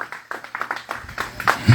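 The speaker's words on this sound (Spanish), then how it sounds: "Denle un aplauso al Señor en esta hora, aleluya" A church congregation claps together in a quick, steady rhythm, many hands sounding close and lively, with some voices rising toward the end.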